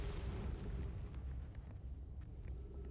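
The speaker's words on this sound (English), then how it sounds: "Oh, that's a cannon launcher thing." A cannon launcher fires in a video game, giving a deep, booming blast that opens loud and then rumbles away, followed by a few faint pops.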